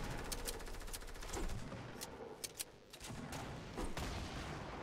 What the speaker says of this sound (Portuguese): Pimba, dois tiros